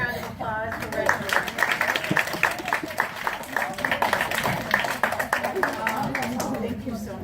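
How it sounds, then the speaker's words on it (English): Children applaud for Reggie after his talk to the kids, scattered claps mixed with lively young voices and chatter throughout, fairly close and steady. "can we get a big round of applause for Reggie?"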